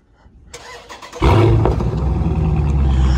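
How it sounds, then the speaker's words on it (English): A Charger SRT 392 Scat Pack engine cranks and fires, settling into a deep, rumbling V8 idle through a catless exhaust with mid muffler, close by and loud. "show y'all how the mid muffler scat pack sound"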